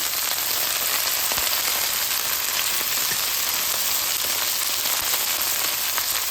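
Drumsticks sizzle steadily in hot oil with mustard seeds, fennel, onion, curry leaves and dried red chillies, a dense continuous crackle with scattered pops, close and even throughout.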